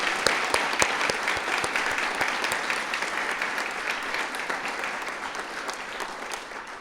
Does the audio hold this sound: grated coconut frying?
no